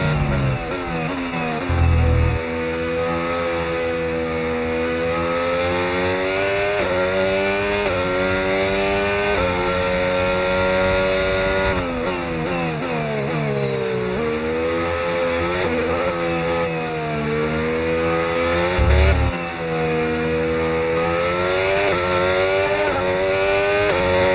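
Engine of a McLaren MCL39 Formula 1 car in a racing video game, with overtake mode engaged, screaming loudly and steadily with rising and falling pitch as it shifts through gears, two brief low thumps along the way.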